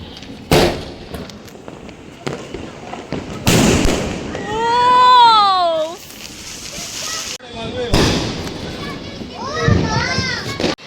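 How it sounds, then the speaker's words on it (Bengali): Firecracker shells burst at a Kali Puja celebration: several loud, sharp bangs at intervals, with children and adults talking and shouting nearby and whistling tones rising between blasts. "এখন সেল ফাটানো হচ্ছে সেল সেল ফাটাচ্ছে"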